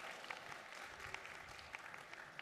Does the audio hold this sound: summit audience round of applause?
yes